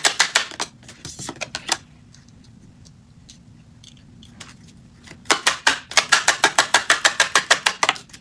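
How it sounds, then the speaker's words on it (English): Tarot cards shuffled by hand give off quick bursts of crisp, papery clicks: a short flurry at the start, a quiet pause, then a longer, evenly rhythmic run of riffling snaps, close and fairly loud. "we're going to shuffle it back in and see if it comes back out"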